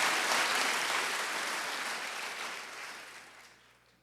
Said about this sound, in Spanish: Denle un fuerte aplauso a la presencia del Espíritu Santo en esta mañana.